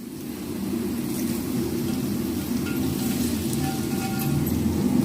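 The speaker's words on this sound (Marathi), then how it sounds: "गरम झालेलं तेल घालतं आहे मसाल्यात" Hot oil being poured into a spice mix for traditional raw mango pickle, giving a steady broadband sizzle that holds evenly throughout without any talking.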